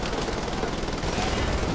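Mounted machine gun fire in the shooter Wolfenstein: The Old Blood, a dense, continuous burst of rapid gunfire with a noisy rumble throughout and no voices.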